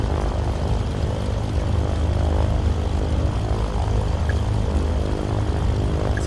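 Twin propeller engines of a C414AW Chancellor in Microsoft Flight Simulator drone in a steady, dense broadband roar that stays constant throughout, with no talking over it.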